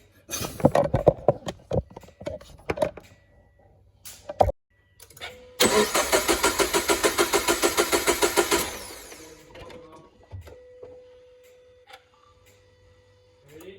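A turbocharged Toyota GT86 with a Subaru engine cranks and fires for the first time, preceded by clicks and bursts of whirring, then a loud rapid chugging idle for several seconds that fades out.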